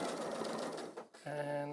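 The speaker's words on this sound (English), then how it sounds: "I'm now just back stitching just a few there." A sewing machine back stitches through fabric in a short burst of close, steady mechanical whirring, pausing briefly before a second even run with a clear motor hum.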